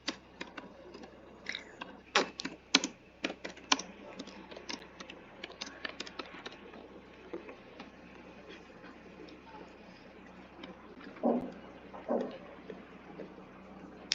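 Light clicks of someone typing on a computer keyboard come in scattered bursts near the mic, some sharper taps standing out against a low background hum.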